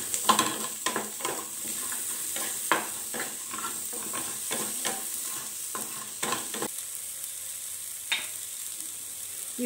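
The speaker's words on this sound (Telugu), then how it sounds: "ఇందులో కొంచెం పసుపు, ఉసిరి ముక్కలు ఇలా కొంచెం ఫ్రై చేసుకుంటే పచ్చివాసన పోతుంది." Amla pieces with turmeric frying in a pan give a steady sizzle, broken by repeated scraping and stirring strokes from a spoon, with no one talking.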